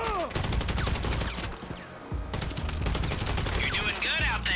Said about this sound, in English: Every loadout needs a silenced rifle, and there isn't many better than a carbine rifle Mark II